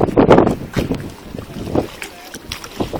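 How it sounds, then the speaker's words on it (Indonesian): Strong wind buffets a boat on an island trip off Pulau Pari, roaring in gusts with water and hull noise close to the microphone, and a voice briefly speaks over it. "Anginnya kencang banget."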